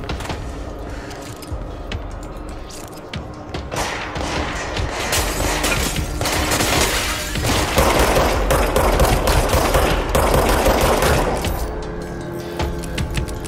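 Gunfire in the shooter game Control, a continuous barrage of dense, loud automatic shots and impacts blending into a sustained roar that swells in the middle and carries on to the end.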